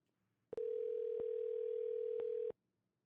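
A single long telephone tone on an outgoing call, steady and unbroken for about two seconds before cutting off, heard alone and fairly close.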